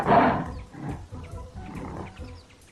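A lion in an animated children's fable lets out a loud roar that swells at the start and then trails off into lower, rumbling growls, with no talk.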